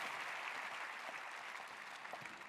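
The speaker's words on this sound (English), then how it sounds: "Can we keep the applause going?" Audience applause fills a conference hall after a presentation, a steady dense wash of clapping from many hands that continues without pause, somewhat distant and soft.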